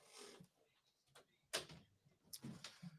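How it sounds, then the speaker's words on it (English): A room door is pushed shut indoors, a sharp thump with a brief rattle, followed by a second softer knock, all close and fairly quiet. "let me close my door."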